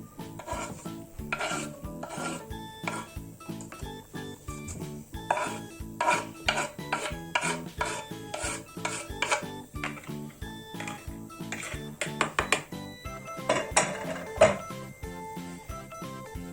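Scraping and stirring in a bowl, a steady rasping rhythm of a utensil working through a chopped lahmacun filling with parsley, close and continuous with occasional clinks.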